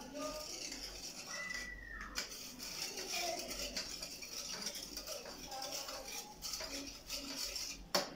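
A spoon stirs a sweet mixture of milk and vanilla or banana yogurt in a pot, quiet repeated clinks and scrapes against the sides, fairly close and soft.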